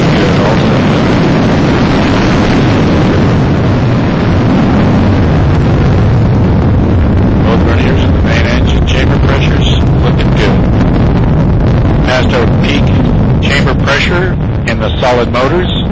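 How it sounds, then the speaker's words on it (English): A Delta II rocket carrying the Phoenix Mars spacecraft lifts off with a loud, continuous broadband roar that crackles and rumbles throughout, heard alone without voices. "liftoff of the Delta II rocket with Phoenix"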